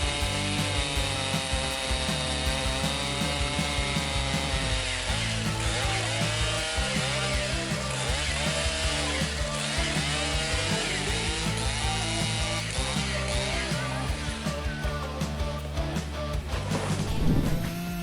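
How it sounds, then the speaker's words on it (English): A Husqvarna 395 XP chainsaw roars continuously while felling a large teak tree, its engine pitch rising and falling under load, loud and sustained throughout. "395 XP chainsaw, the woodworker expertly and efficiently sawed down this finest teak tree"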